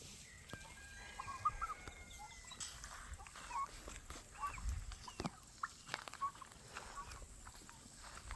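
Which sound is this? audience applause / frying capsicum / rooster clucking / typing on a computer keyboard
rooster clucking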